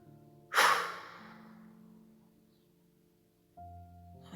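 One long, close exhale during a relaxation exercise, a breathy rush that starts strong and fades slowly over a couple of seconds, followed by quiet and a faint hum.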